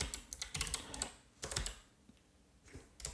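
Quick clattering keystrokes on a computer keyboard as a domain name is entered, several short bursts of close, crisp clicks separated by brief pauses.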